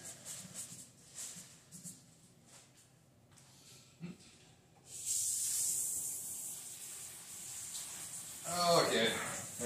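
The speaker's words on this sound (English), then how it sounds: "Spraying it off in the sink over here." Running water from a kitchen sink faucet sprays over fresh produce, a steady broad hiss that starts midway and continues to the end, following a stretch of quieter kitchen handling noises.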